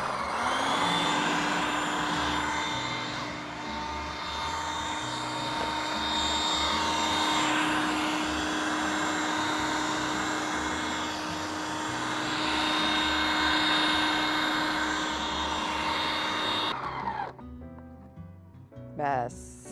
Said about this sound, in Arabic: أكمل ضرب لحد ما تتكون لي زبدة لوحدها